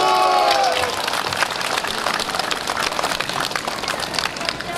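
An audience claps in dense, continuous applause at an outdoor patriotic walking event in Busan, loud at first and then settling into steady clapping.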